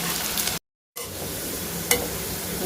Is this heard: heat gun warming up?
no